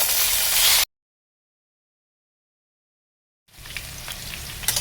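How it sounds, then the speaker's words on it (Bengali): Potatoes sizzle and hiss in a hot pan while frying for pitai paratha, a steady close frying noise that cuts out completely for a few seconds, then resumes with faint stirring clicks. "এবারে আলুগুলো আমি এর মধ্যে দিয়ে দেব।"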